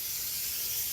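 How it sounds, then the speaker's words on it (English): A can of olive oil cooking spray hisses in one steady, continuous burst into a casserole dish, close and loud, with no talk. "I'm just spraying it with the olive oil spray"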